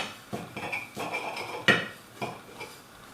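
Serving utensils clink and scrape against a dish while a piece of syrup-soaked melted cheese dessert is lifted out, a few light metallic taps and one sharper clink, close and fairly quiet, with no talking.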